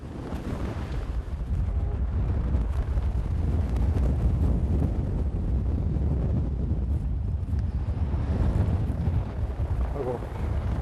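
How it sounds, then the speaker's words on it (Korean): Strong wind gusting outside a lighthouse at sea, a loud, continuous roar that buffets the microphone steadily throughout. "등대 밖으로 나가자마자 휘몰아치는 바람."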